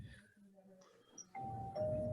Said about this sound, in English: I'm not sure if you heard that doorbell, but it does get really loud